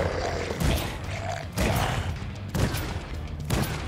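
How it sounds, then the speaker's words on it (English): Shotgun blasts in the PS4/PS5 horror game Dreams (Zombie Hunter), several heavy booming shots spaced about a second apart, loud and close, each with a rumbling tail amid creaks and growling zombie sounds. "Shotgun is doing wonders, though."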